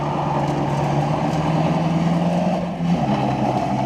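A Toyota Hilux mini truck holds a burnout, its engine droning loud and steady at high revs with a rough, throaty rumble that dips briefly near the end before picking back up.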